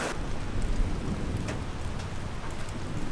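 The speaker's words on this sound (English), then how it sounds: "Yeah, this storm is really bad." Heavy night rainstorm on the Appalachian Trail in Connecticut and Massachusetts: a dense, steady roar of rain pounding close by, with a low rumble underneath and no voices.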